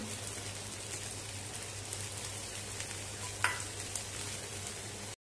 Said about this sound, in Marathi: थालीपीठ छान मिनिटभर एका बाजूने चांगलं भाजून घ्यायचं